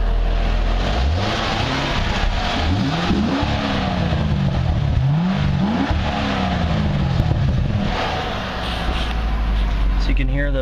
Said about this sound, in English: Just kind of rev this a little bit.